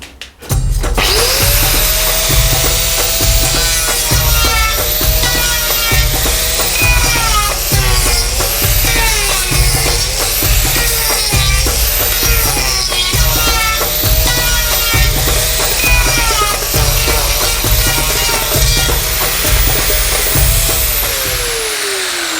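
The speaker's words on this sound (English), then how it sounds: "We're just going to see a little method where you smooth this timber right off" A power sander works rosewood timber smooth, running as a loud, continuous whirring drone with a high whine and rhythmic pulses of the pad against the wood, spinning up at the start and winding down at the end.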